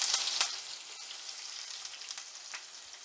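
Onion hits hot oil with crushed garlic and chilli in a pan, giving a steady bright sizzle and crackle with a few sharper spits and scraping stirs, close and fairly loud.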